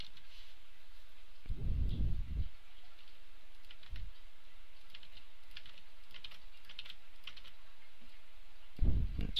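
Steady typing on a computer keyboard, soft rapid clicks running throughout, with a few louder thumps as keys or the desk are struck.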